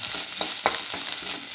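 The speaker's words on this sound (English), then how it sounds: "Now put in the ginger, from 25 grams" Ginger sizzles and fries in a hot pan, a steady close crackling hiss with a couple of brief stirring scrapes.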